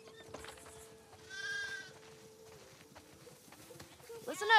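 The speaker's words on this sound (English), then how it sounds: "Listen up, sheep. Your dinner awaits you in the barn, so come on." Sheep bleat in The Last of Us Part II, a few wavering calls at moderate distance over quiet ambience, while a voice talks over the game.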